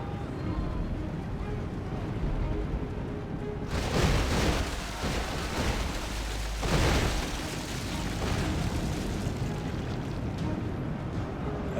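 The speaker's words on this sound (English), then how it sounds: "Dragon's Wrath cannons firing." Dragon's Wrath cannons fire during a Third Age Total War battle, producing two heavy booming blasts a few seconds apart over a constant rumbling battlefield din, with a voice talking throughout.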